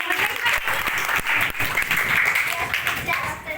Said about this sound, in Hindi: संगीता वर्मा के लिए जोरदार ताली बजाएं